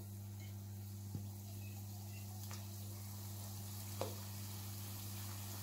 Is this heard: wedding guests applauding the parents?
no